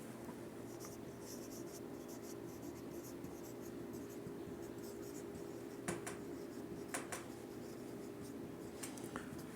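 Pen writing accounting figures by hand on paper: faint, steady scratching and light tapping strokes close by over a low background hum, with no talking.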